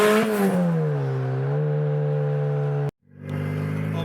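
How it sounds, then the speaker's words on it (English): A turbocharged Toyota Celica GT-S engine holds a steady droning tone after a brief rise, cuts out abruptly, then returns with a rising whine. "I don't know if you guys can hear how good the turbo noise are."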